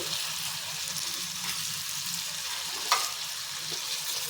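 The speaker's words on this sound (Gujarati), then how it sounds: "આદુ લસણને આપણે અહીંયા સરસ રીતે સતડાવા દેવાના છે" Ginger-garlic paste sautés in a pan while cooking sev usal, a steady, even sizzle and crackle with a sharper stirring clatter briefly near the end.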